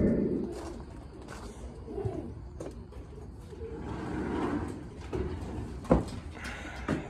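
Racing pigeons coo softly inside a breeding loft, low repeated murmurs under faint rustling, scraping and a couple of sharp clicks.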